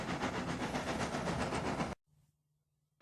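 A little red steam engine in a children's story puffs along the railway track at a rapid, steady chug, loud and continuous for about two seconds before cutting off abruptly into near silence with a faint low hum.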